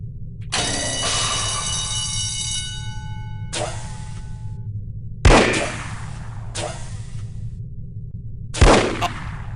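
Gunfire in the spy shooter game The Operative: No One Lives Forever: a ringing, echoing first shot with a long metallic tail, then a few more sharp single shots spaced a second or two apart, two of them louder and punchier.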